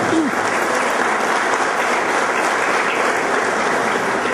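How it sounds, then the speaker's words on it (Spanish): A hall audience at a talk on provincial constitutional reform gives loud, sustained applause welcoming the speaker, a thick uninterrupted wash of clapping throughout. "Les brindamos un fuerte aplauso en esta recepción para esta charla."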